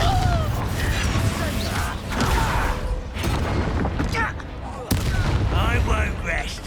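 The Confringo blasting spell goes off in Hogwarts Legacy as a few sharp, loud bursts spaced a second or two apart, set among dense battle noise with voices shouting over it.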